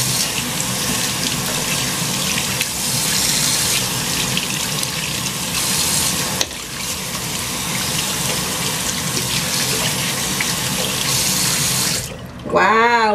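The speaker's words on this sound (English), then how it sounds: "Just literally rub your makeup brush in the soap a little bit, then rub it on your hand." Makeup brush scrubbed with soap and rinsed under a running sink tap, water gushing steadily and loudly throughout with a brief dip midway and a short change in the flow near the end.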